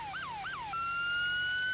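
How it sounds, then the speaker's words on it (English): Police car siren in a video game, close and loud: two quick rising-falling yelps followed by a long steady wail that holds to the end, with no voices. "Alright, guys, turn the sirens off."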